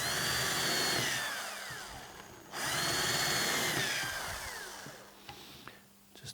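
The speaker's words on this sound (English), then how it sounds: "I'm just going to drill a couple of holes in here and then screw them into the frame." Power drill boring holes into a wooden marimba frame in a workshop: two whining bursts with rising and falling pitch, the second followed by a quieter spin-down and a few small knocks.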